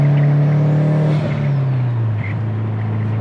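A 2005 Subaru STI engine revs hard at full throttle, a loud, close roar that climbs and then falls as the revs drop, with no voices.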